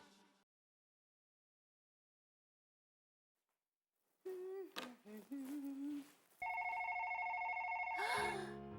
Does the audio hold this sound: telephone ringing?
yes